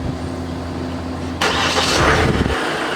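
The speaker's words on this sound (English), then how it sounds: "So this is how you start the car with the key." A Kia Sportage diesel is started with the key: a low idle hum gives way to a sudden loud cranking burst, and the engine catches and settles into a running idle.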